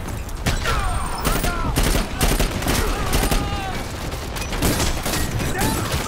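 Rapid gunfire and explosive bursts fill a Dirty Bomb match on the Bridge map, including shotgun blasts among a steady fusillade, with game chatter and voices mixed in throughout.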